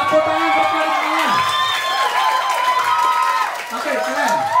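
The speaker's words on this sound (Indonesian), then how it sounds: "Tepuk tangan buat kalian." A group of children at an English and character camp cheer and shout in a loud, continuous burst, with clapping mixed into the excited voices.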